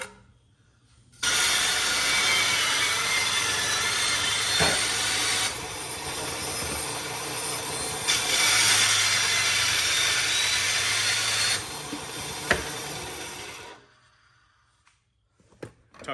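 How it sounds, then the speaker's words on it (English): Bandsaw cutting a wooden board, a loud steady mechanical whir with buzzing cutting noise lasting about twelve seconds, with a few knocks and clicks, starting and stopping cleanly, no speech. "I got a bandsaw."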